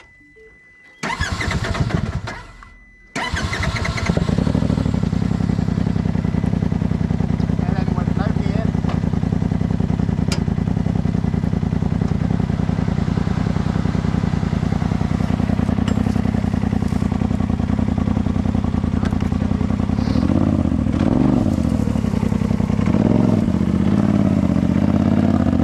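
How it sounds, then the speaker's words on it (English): An off-road chassis engine starts after a brief cranking, then settles into a steady, loud, close idle that holds for over twenty seconds, with a voice speaking over it briefly. "Foot on the brake and start it like normal."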